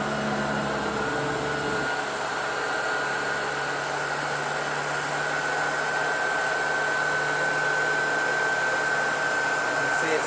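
A Shark upright vacuum cleaner, Rotator or Navigator Powered Lift-Away, runs on full power, giving a steady loud motor whine and airflow hiss that holds evenly throughout, with a slight shift in tone near the start.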